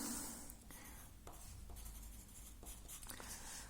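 Pen writing on paper during a music theory lesson, a quiet, close scratching with short strokes and pauses, no talking.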